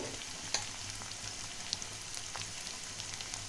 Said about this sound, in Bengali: এটা ততক্ষণ ভাজতে হবে যাতে আদা গন্ধটা না ছাড়ে।